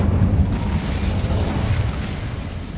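A fire spell cast in the video game Hogwarts Legacy bursts into a loud, sustained roaring blast, a dense rumbling whoosh that fills the whole moment with no pause.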